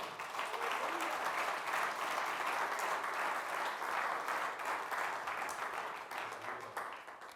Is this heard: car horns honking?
no